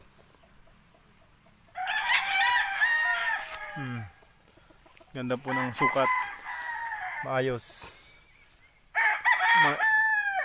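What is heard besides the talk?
rooster crowing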